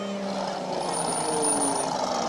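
Loud, flashy cars roll past in the Fort Walton Beach Christmas parade, a steady close engine rumble and road noise with a thin high electronic tone mixed in, a voice briefly audible.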